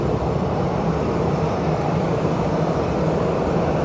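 A jet airplane at Dublin Airport gives off a steady, loud engine roar, a constant broadband drone with no voices over it.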